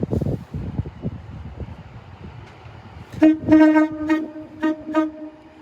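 An Avanti Pendolino class 390 electric train sounds a series of horn tones at London Euston station on a snowy evening, loud and close. Quiet platform rumble comes first, then several short horn blasts in quick succession.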